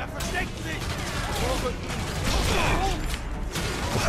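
Gunfire from the video game Sniper Elite III rings out in bursts, mixed with mechanical clatter and game effects, while a voice talks over the action.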